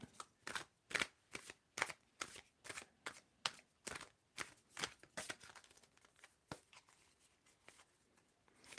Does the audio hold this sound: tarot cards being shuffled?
yes